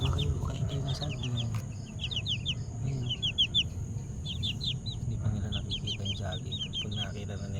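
Blue Face Hatch crossed with Asil chickens cluck and chirp in short high bursts while being fed banana, with a low rumbling background throughout.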